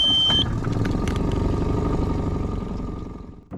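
Electric key start of an outboard motor on a dinghy: a brief beep, then the motor catches and runs steadily with a loud, rumbling, clattering drone close by before cutting off at the end.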